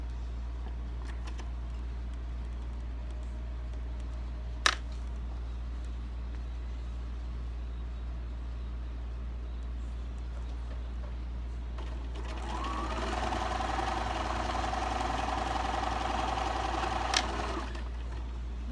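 A sewing machine stitches a fabric seam, starting up around the middle as a steady, fairly loud whir and running continuously to near the end, with a low constant hum underneath throughout.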